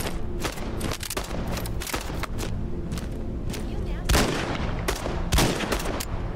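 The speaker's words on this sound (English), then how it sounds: "Shot it once. Shot it twice." Rapid video game gunfire crackles in dense bursts, with a few heavier booms near the end, loud and continuous throughout.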